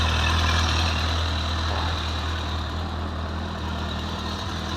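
A warmed-up 2006 Honda CBF1000A motorcycle engine idles steadily up close, a smooth, even low rumble that holds without change and with no talking.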